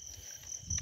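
Field crickets, fighting crickets being caught at night, trill in a thin, high, steady chirp, faint and close, over a soft low rustle.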